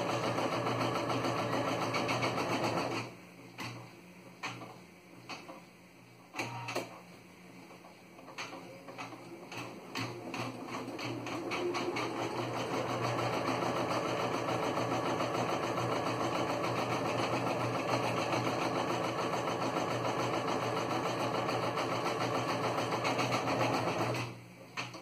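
A thread organizer on an embroidery machine stitching, with a steady loud mechanical hum and rapid stitching rhythm running almost throughout, briefly dropping and stuttering with clicks near the start before resuming a continuous drone.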